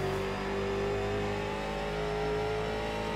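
Late model race car engine in the iRacing game, New Hampshire track, drones at a steady high idle-rev during post-race burnouts, a constant engine tone with no speech.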